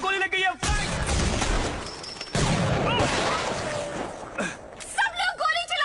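Chaotic scene of loud bursts and crashes from gunfire in the Hindi-dubbed film Free Fire, mixed with shouting voices and a high whine, fairly close and intense.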